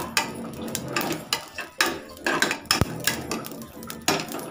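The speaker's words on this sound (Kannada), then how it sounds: "ಚೆನ್ನಾಗಿ ಒಂದು 10-15 ಮಿನಿಟ್ಸ್ ಹುರಿಯೋಣ" Ingredients for a weight-loss kashaya drink dry-roasting in a pan on low heat, with repeated scraping and clinking of a metal spoon against the pan, close and moderately loud, no voices.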